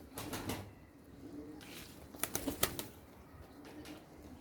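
Several quick bursts of wing flapping from white Mardin pigeons, with a cluster of sharp flutters in the middle, fairly faint against a quiet background.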